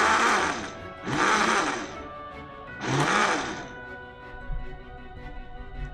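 A kitchen blender mixes a cocktail in close, loud whirring bursts, three strong surges about a second long with a lower grinding hum between them, and faint background sound after.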